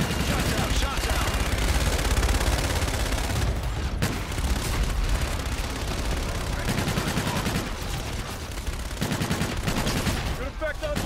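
Dense gunfire and heavy explosions from a called-in fire strike in Call of Duty: Infinite Warfare, loud and continuous, with sharp blasts punching through sustained automatic fire.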